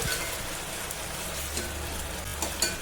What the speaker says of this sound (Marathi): आता आपण याच्यात टाकायचा एक चम्मच अद्रक लसूणचा पेस्ट आणि याला एक ते दोन मिनटं शिजू द्यायचं